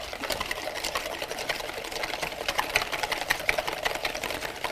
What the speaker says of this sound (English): We're gonna whisk them.